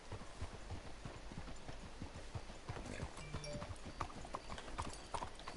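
Horse hooves clip-clop steadily in Red Dead Redemption 2, a brisk, regular rhythm of close, fairly loud hoofbeats over a low background, with no talk.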